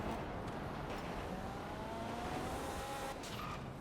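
A car drives in GTA 5 Online, its engine a steady loud drone with a rising whine and brief tyre squeals, continuous and close.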